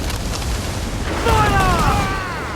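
Ship cannons fire in Assassin's Creed Black Flag, a loud booming barrage under rumbling noise with a whistling, warbling trail after a heavier blast midway.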